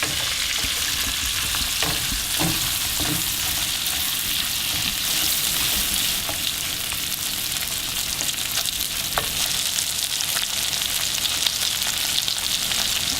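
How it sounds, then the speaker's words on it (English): Mushrooms sizzle steadily as they fry and brown in a pan for a country-style omelet, with a few sharp clicks of stirring standing out against the constant, close frying hiss. "Just going to throw those in and give it a quick stir, and then we let them brown for a couple of minutes"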